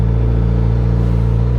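A 2022 Suzuki GSX-S1000GT+ sport-touring motorcycle's four-cylinder engine idles smoothly and steadily up close, a continuous even hum with no talking.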